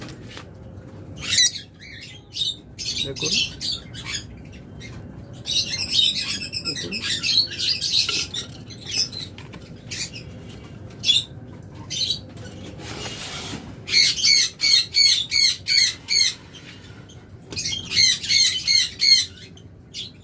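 Lovebirds in an aviary break into shrill bursts of squawks and rapid chirps, clustered in loud flurries with quiet gaps between, and someone briefly speaks.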